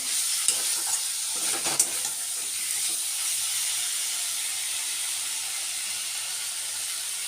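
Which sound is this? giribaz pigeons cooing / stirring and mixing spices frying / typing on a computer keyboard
stirring and mixing spices frying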